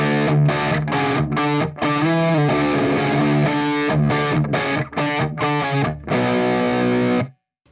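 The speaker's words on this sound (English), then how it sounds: "And for this tone patch, I am using a Bogner Shiva," Dirty overdriven electric guitar on a bridge humbucker through a Bogner Shiva amp chugs out heavy distorted chords in rhythmic bursts with short palm-muted gaps, loud and close, ending in a held chord cut to silence.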